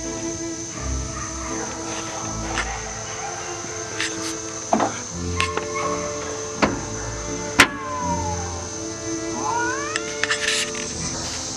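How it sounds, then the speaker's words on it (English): Several cat meows, some rising and falling, sound over a loud steady mechanical hum with scattered sharp knocks and clicks. "Oh, it's a kitty cat."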